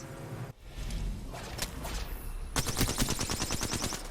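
Rapid gunfire from an Apex Legends esports match, a dense burst of automatic shots that turns into a steady rattling volley in the second half, loud and continuous against the game's background noise.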